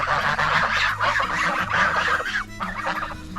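A flock of large geese, about three kilograms each, honks loudly and continuously, overlapping calls close by with a busy outdoor bustle underneath.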